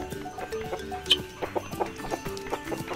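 A flock of hens and chicks clucking: overlapping, choppy clucks and squawks sound close together in quick irregular bursts, with one sharper cry standing out.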